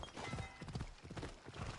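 Horse hooves clip-clop in a steady, rhythmic trot inside a PS4 video game, with loud, close thudding steps that repeat throughout.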